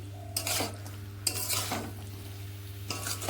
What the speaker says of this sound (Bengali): সেই সিম পটল সবজিগুলোকেও এখানে দিয়ে নিচ্ছি সবগুলো ভালোভাবে মিশিয়ে নিচ্ছি